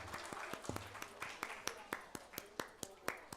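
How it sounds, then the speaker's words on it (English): Applause for children at a school speech contest: steady crowd clapping with sharp individual claps standing out in an even rhythm, moderately near and unbroken throughout. "A big round of applause for all the kids"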